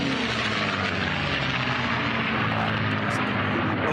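P-51 Mustang racing planes in an unlimited-class air race round a pylon with a loud, continuous roaring engine drone that fills the air, while a commentator talks over it.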